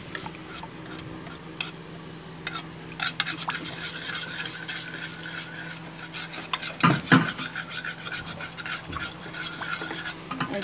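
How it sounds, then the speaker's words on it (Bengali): Sour yogurt being stirred to mix it into a drink, with repeated scraping and clinking of a utensil against a container, louder knocks near the middle, a faint voice in the background. "এই যে একদম ভালো মতো টক দইটা আমি মিশিয়ে নিয়েছি"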